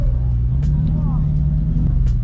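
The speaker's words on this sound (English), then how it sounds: "Get the engine fired up." An old Audi R8 engine idles steadily at a hypercar event, a loud continuous rumble throughout with crowd noise and people talking nearby.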